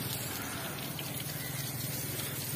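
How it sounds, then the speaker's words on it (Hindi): Water pours steadily onto a newly built wall to cure it early in the morning, a continuous gushing splash heard close and fairly quiet, with no voices. "ये पानी लगा रहा है, ये मालिक है इस जगह का।"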